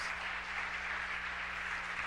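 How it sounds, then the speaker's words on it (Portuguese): A church congregation applauds, a faint, steady wash of many hands clapping together at a distance, continuous and even throughout. "Vamos aplaudir o Senhor."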